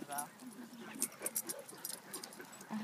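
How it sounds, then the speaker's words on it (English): Tiny dog giving soft, brief whimpers and yips close by, mixed with people talking and light jangling. "Look at this tiny dog."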